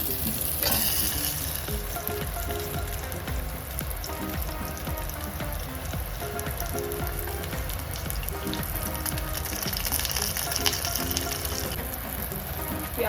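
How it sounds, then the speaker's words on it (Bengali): Chopped onions fry in a pan with a continuous, dense sizzle, steady and close, with occasional scraping as they are stirred. "পেঁয়াজটা হালকা করে ভাজা হয়ে গেছে"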